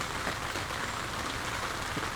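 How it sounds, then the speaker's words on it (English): Steady rain comes down on a surface with water leaking, a dense, even hiss of drops throughout with no voices. "That was a lot of water leakage. Yeah, it's coming down."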